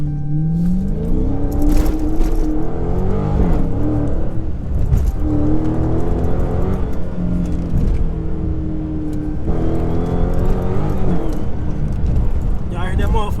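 A car engine whines and revs loudly from inside the cabin, rising and falling in pitch over several acceleration pulls, while people talk over it.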